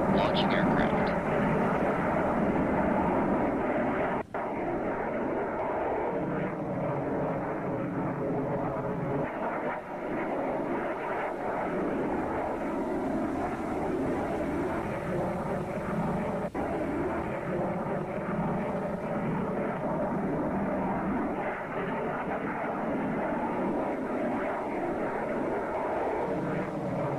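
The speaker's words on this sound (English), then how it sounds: "Con, flanko, launching aircraft." Aircraft launching from a Nimitz-class carrier in the Cold Waters naval game, a steady broad engine roar holding at constant loudness throughout with a couple of brief dips, with voice chatter mixed underneath.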